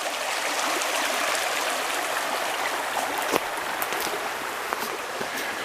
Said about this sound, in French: C'est une rivière extraordinaire